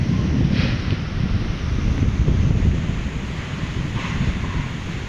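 Strong wind buffets the microphone over a constant roar of ocean surf at Manila Bay, with waves surging in heavy rolling swells and no voices.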